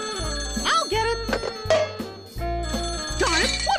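A cartoon telephone with a faulty, glued-on top part rings in repeated loud bell bursts over a steady musical backing, with animated voices talking between and over the rings.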